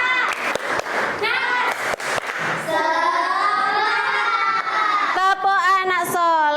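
A classroom of children claps in quick rhythmic bursts while chanting together in a loud group cheer, the sharp hand claps punctuating their sung voices, which then carry on as sustained unison chanting.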